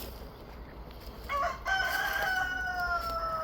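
A rooster crows once in a springtime backyard orchard with pear trees, the drawn-out call rising clearly above a quiet outdoor background and holding to the end.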